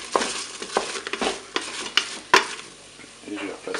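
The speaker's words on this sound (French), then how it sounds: "je remélange à nouveau mes pommes de terre" Potatoes for fries are stirred in a Cookeo. Scraping, clattering stirs and a sharp utensil knock sound over a soft background sizzle, close and with no speech.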